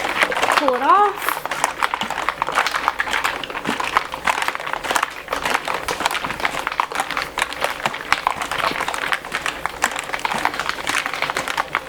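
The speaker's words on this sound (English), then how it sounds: "Give this a shake" Ice and tea rattling hard inside a shaker while making Thai tea, a dense rapid clatter of cubes that runs steadily for the whole stretch, close and fairly loud, with brief sounds at the start.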